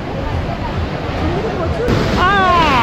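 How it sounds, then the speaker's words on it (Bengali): Sea waves break at Digha beach in a steady, loud roar with gusts of wind. Faint crowd babble sits underneath, and a thin whistling tone appears near the end. "ঢেউয়ের হুঙ্কার শুনুন"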